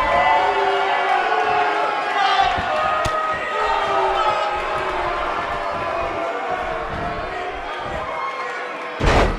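A dense, roaring crowd fills a Miami arena in a wrestling video game, cheering continuously with a sharp slam and thuds cutting through, while a commentator talks over the noise.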